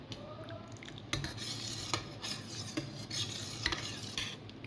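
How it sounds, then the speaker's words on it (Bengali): A spoon stirs dal in a cooking pot at home, with soft scraping and clinks against the metal rim in an uneven rhythm, close and fairly quiet, with no talking. "ডালটাকে একটু তোমাদেরকে নাড়িয়ে দেখাই"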